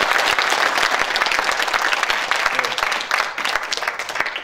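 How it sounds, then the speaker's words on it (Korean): An indoor audience at a candidates' debate gives a loud round of applause, many hands clapping in a dense, slightly uneven patter that tapers off a little over about four seconds. "힘내시라고 큰 박수 한번 큰 박수"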